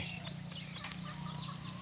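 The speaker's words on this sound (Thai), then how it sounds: "ให้อาหารไก่ย้ำแรงครับ มีทั้งเป็ดทั้งไก่ครับ" Chickens cluck softly and steadily while being fed alongside ducks on a farm, a faint, low-level flock sound without talk.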